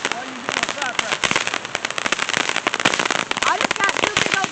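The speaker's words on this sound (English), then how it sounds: "What are you doing with firecrackers?" Dense, continuous crackle of firecrackers going off at a July 4th celebration, rapid overlapping pops filling the whole stretch at close range.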